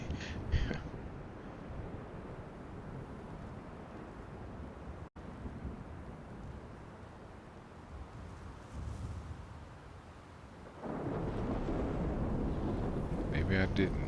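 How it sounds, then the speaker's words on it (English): Rolling thunder from The Division 2 game. A dull, wind-like roar lingers in the background, then surges into a louder, sustained low rumble near the end, with faint clicks at the start and finish. "Damn thunder."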